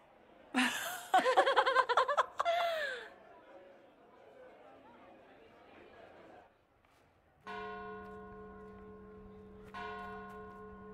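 Lively chatter and laughter in the video game Dragon Age: Inquisition, then a sustained ringing bell tone with rich overtones that strikes again partway through and keeps sounding to the end.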